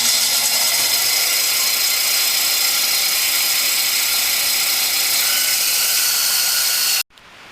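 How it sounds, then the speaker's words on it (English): A small bandsaw rips through wood for a toy fishing pole, a loud steady whine and rasp running unbroken for about seven seconds before cutting off abruptly, leaving a quieter hum. "I'm gonna give this little bandsaw another go."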